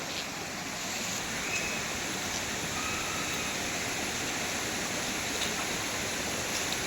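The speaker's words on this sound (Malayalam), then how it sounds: "ചെറിയൊരു അരുവി കണ്ടോ" A small stream flowing on the path to a hillside waterfall, a constant broadband rush of moving water that stays steady and fairly loud for several seconds, with no voices.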